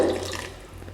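Water pours briefly into a pot of simmering onion kara kulambu curry, a short splashing rush that fades quickly into a quiet kitchen hum.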